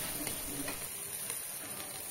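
Cumin and spices fry gently in a pan, giving a faint, steady sizzle with light crackles. It is quiet and continuous, with no voices.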